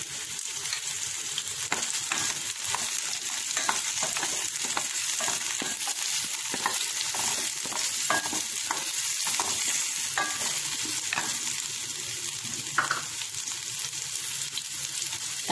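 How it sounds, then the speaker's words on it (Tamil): Shallots and curry leaves fry in hot oil, giving a continuous close sizzle broken by a run of short crackling pops and scraping stirs. "எண்ணெய் சூடாகிடுச்சு, 1 கப்பு சின்ன வெங்காயம் ஆட் பண்ணுவேன்"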